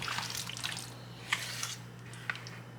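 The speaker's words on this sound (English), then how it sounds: "let me rinse my hand." Hands rinsed under running water in a kitchen while cooking brown stew chicken, a soft steady trickle with a few faint splashes and drips over a low electrical hum.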